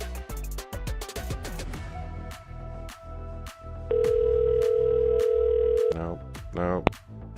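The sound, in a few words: telephone ringing unanswered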